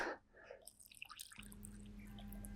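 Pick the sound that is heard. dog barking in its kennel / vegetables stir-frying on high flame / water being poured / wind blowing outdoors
water being poured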